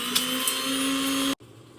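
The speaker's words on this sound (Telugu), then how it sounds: "మసాలా కోసం ఈ వీడియోలో కనబడేవన్నీ ఒక దగ్గర వేసి గ్రైండ్ చేయండి" A kitchen mixer grinder whirs steadily while grinding masala spices with green chillies for a Telangana-style chicken fry, a loud constant motor drone with a slight pitch wobble, then it cuts off abruptly, leaving a quiet low hum.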